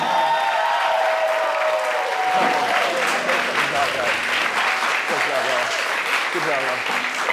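A studio audience at a late-night college talk show applauds after a musical performance, dense sustained clapping with cheers and fading music underneath, steady and fairly loud throughout.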